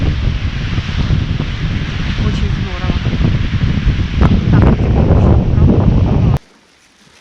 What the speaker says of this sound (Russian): теплый ветер